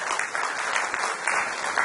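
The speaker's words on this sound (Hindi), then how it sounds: "भरपूर तालियों के साथ एक बार इनका जो है खैर मकदम किया जाए।" An audience at an educational convention claps steadily for a welcomed guest, a sustained burst of applause from a crowd, fairly close and even in loudness with no speech over it.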